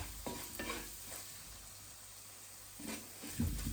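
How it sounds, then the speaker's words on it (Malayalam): Salmon head curry masala with chili powder being stirred in a pan, with low frying sizzle and several spoon scrapes at the start and end, fairly quiet. "മുളക് പൊടിയും ഈ പൊടികളുടെയൊക്കെ പച്ചമണം മാറുന്നത് വരെ നമ്മൾ ഇളക്കി"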